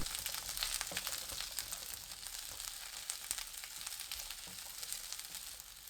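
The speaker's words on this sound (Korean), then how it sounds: "팬에 올리브유 1큰술, 양파 넣고 센 불로 1분 볶습니다." Onion frying in olive oil in a pan over high heat, a continuous crackling sizzle with scattered sharp pops, fairly quiet and close, with no voices.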